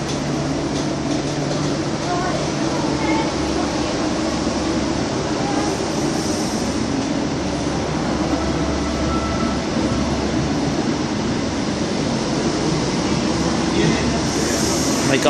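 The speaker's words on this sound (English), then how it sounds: "it's your 1855 Greater Anglia service to Norwich. Slowly leaving Stowmarket." A Greater Anglia train to Norwich pulls slowly out of Stowmarket station with a loud, steady rumble and faint wheel clatter and squeal, heard close from the platform throughout.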